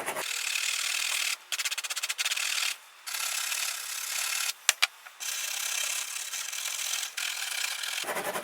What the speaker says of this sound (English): Pull that brass brush out again. Clean all that out of the crevices and the cracks.